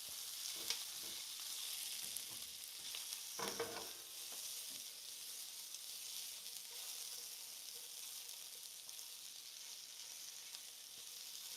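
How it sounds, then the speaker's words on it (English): Eggs and vegetables sizzle steadily in a frying pan, a constant crackling hiss lasting throughout with a few louder bursts of stirring early on; no one talks. "Y'all can probably hear that sizzle and everything."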